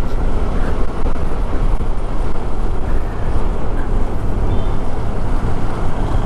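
Heavy, steady wind roar buffets a microphone fitted with a fur windscreen as a 2021 KTM 390 Adventure motorcycle is ridden, with engine drone buried under loud, continuous rushing noise throughout.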